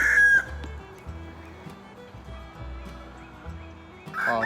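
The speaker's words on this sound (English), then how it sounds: "Oh, I get some chickens right in front of me" Chickens cluck and murmur nearby in a steady low chatter, with a rooster-like call rising briefly at the start and end.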